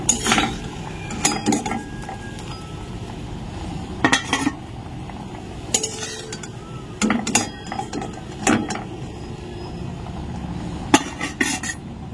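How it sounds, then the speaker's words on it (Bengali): Boiled cauliflower leaves with chilli, onion and garlic ground by hand on a stone slab, heard as repeated gritty scraping and clacking strokes in irregular bursts, close and fairly loud. "ফুলকপির পাতাটা আমি সেদ্ধ করে নিয়েছিলাম, এখন দেখো শিলের মধ্যে বেটে নিচ্ছি"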